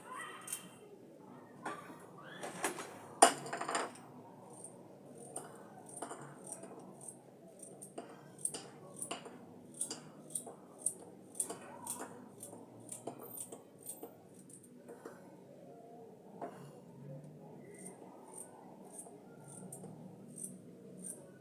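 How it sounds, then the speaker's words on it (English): A carrot is chopped with a knife during broccoli stew preparation, giving a series of sharp, irregular clicks and taps that quicken into a steady rhythm, faint against a quiet room. "I'll cut my carrot."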